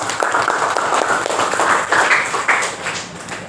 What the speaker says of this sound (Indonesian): Tepuk tangan buat kita loh.